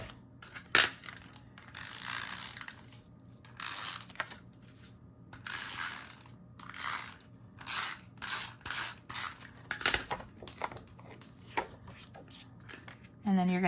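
Paper trimmer blade sliding along a sheet to take a quarter inch off the top and side while making a mini album, giving a series of short scraping and clicking strokes, with quiet talk in the background.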